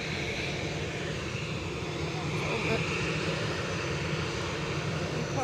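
Ryanair jet airliner from Dublin passing at Edinburgh Airport, a steady, moderately loud broadband engine roar that holds evenly throughout.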